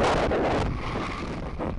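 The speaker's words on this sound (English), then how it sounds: "Liftoff. Falcon 9 with the DART mission." Falcon 9 rocket lifting off on the DART planetary defense mission, a loud, continuous low rumbling roar with crackling bursts that stays dense and steady throughout.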